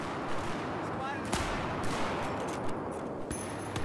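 Gunfire in Battlefield 4, a bolt-action sniper rifle: a few sharp, loud shots crack out at uneven intervals over a steady bed of battlefield noise, with a voice faintly present.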